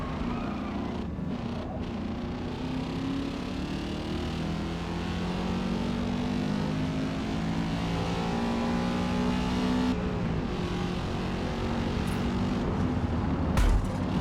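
Race car engine in Forza Motorsport drones steadily, with the pitch climbing through gears and dropping, a sustained loud in-car whine with brief bumps and no talk.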